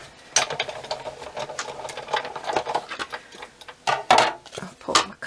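A Big Shot die-cutting machine is cranked to cut card with stitched dies, giving a series of uneven clicking, ratcheting knocks and rolling rattles over a few seconds, close by with no talk.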